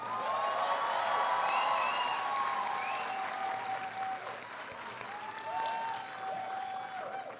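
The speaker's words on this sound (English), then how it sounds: "join me in applauding and congratulating your salutatorian" A large audience at a college commencement ceremony applauds a graduating salutatorian, dense sustained clapping spread across a big hall, heard from a distance with a few whoops and whistles riding above it.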